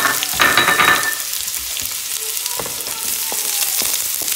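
Onions and leeks sizzling as they go into hot oil for a leek tart, a bright crackling hiss that swells early on and then settles into a steady fry with a few faint pops.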